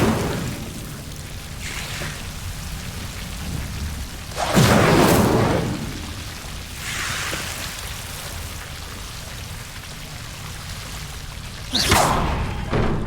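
Fire spell cast in the video game Hogwarts Legacy: a few broad whooshing bursts, the loudest a roaring blast near the middle, another sharp flare near the end, over a steady low ambient bed.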